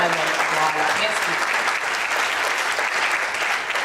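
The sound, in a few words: audience applause at a concert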